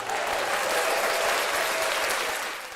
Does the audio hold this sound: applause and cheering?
yes